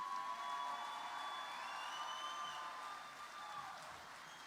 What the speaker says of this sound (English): Mr. Kurt Dillon, a huge round of applause for his service to our organization.